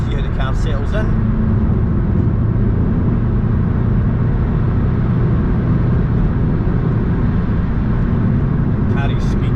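VW Mk7.5 Golf GTI TCR building speed through a long left-hand bend, a steady loud engine and road drone heard from inside the car, with someone talking over it.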